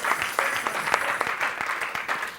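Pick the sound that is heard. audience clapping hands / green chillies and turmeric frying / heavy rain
audience clapping hands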